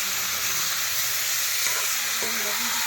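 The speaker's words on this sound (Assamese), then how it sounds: "গাহৰি মাংস ভাজি আছোঁ এতিয়া।" Pork with onion sizzles and fries in hot oil while being stirred in a pan, a steady loud hiss with a few scrapes and clinks of the spoon, and no talking.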